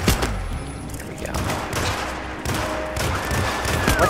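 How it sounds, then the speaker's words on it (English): Gunfire in the Hitman video game, a dense, loud stretch of shots and rumbling action noise running continuously with no clear pauses. "He shot me through that guy."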